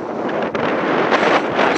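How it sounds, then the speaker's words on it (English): Wind blows across the hilltop at Dunadd and buffets the microphone with a continuous, loud broadband roar and small gusting surges. Nobody talks. "It's quite windy up here."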